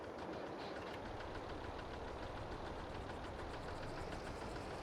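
A tractor engine in the Farming Simulator 22 video game runs steadily, a dense continuous rumble with a faint rhythmic knock, alone and unbroken throughout.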